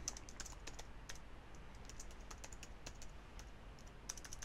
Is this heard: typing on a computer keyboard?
yes